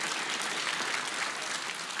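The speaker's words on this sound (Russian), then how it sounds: "Здравствуйте, друзья, аплодисменты." Steady, dense applause from a studio audience greeting a guest on a Russian show, even and continuous throughout with no voices over it.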